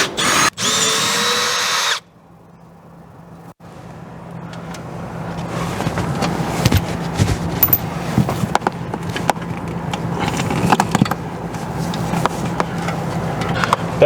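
A power drill driving large lag screws into a wind-damaged RV awning gives a loud, brief whirring burst at the start, followed by a long stretch of rising, rough background noise with scattered knocks.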